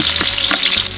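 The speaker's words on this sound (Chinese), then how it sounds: "炒个底料，来点葱姜片" Hotpot base stir-frying in hot oil with scallion and ginger slices, a loud, steady close sizzle with faint stirring scrapes, alone without talk.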